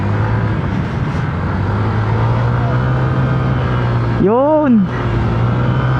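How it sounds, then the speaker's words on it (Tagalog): Honda Click 125 scooter engine droning steadily as it climbs hilly terrain, with a brief rising-and-falling whistle-like tone near the end and a voice speaking briefly. "Ito, iakyat natin yung ating motor."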